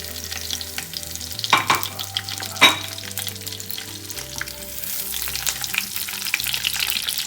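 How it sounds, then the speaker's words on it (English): Sausages fry in olive oil for an English breakfast, a close, steady sizzle and crackle with a few sharp pops and spoon scrapes, heard alone without speech. "Then add olive oil. Then sausages."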